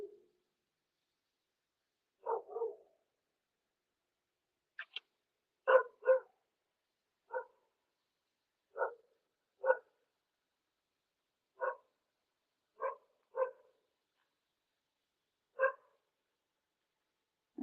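A dog barks in short, spaced bursts, about ten sharp yelps and barks spread across the stretch with quiet gaps between them, fairly close and alone without talk, sounding whiny and howl-like at times.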